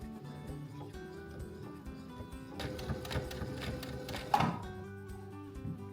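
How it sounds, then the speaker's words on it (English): A domestic sewing machine stitches the top seam of a tote bag, a fairly quiet rapid mechanical chatter that picks up briefly in the middle before a single thunk. "now I'm just going to sew the top seam and then I'll just have to sew it onto the bag"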